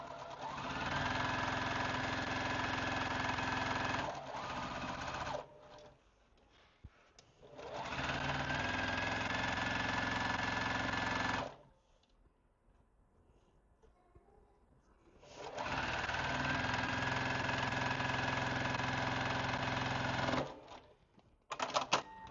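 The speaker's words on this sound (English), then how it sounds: "we'll go over to the sewing machine and we'll sew it straight down" A sewing machine stitches quilt fabric with a 1/4 inch foot in three steady bursts of several seconds each, separated by brief pauses filled with quiet handling noises.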